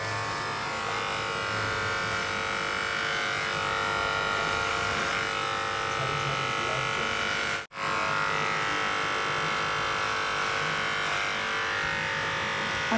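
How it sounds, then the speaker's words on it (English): Electric hair clippers buzz steadily and close up while shaving a man's hair completely, a continuous motor drone broken by one brief cutout midway before resuming at the same level. "Okay, so we are going to completely shave it."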